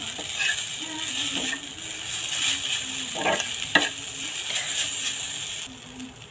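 Noodles tossed with spice mix in a pan, giving a steady close scraping and stirring rustle over a faint sizzle, with a few sharper clicks of the utensil against the pan.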